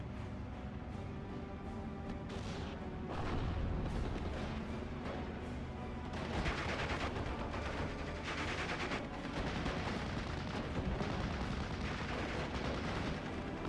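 Dense, continuous battlefield din from a World War II tactics game skirmish: a loud grenade blast among sustained gunfire and artillery-like booms, close and layered throughout with no speech.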